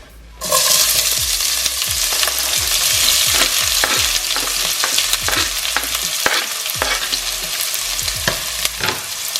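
Onions fry loudly in oil in a preheated pot, a dense crackling sizzle that starts abruptly and carries on, punctuated by frequent spoon scrapes and knocks against the pot.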